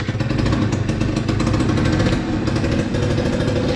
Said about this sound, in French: Tu l'entends? Ce moteur qui fuit.